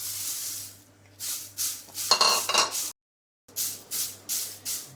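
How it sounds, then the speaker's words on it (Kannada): Curry leaves roast in a pan for chutney powder, with repeated scraping and stirring strokes, a louder stir with a faint sizzle, a brief silent gap, then more rhythmic stirring close by. "ಈಗ ಇನ್ನೊಂದು ಬಟ್ಲು ಕರಿಬೇವಿತ್ತಲ್ಲ ಇದನ್ನು ಹುರ್ಕೊಂಡ್ಬಿಡ್ತೀನಿ"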